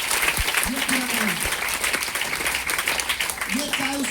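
A crowd at a DXN business meeting in Patna claps steadily throughout, while a voice speaks over the applause.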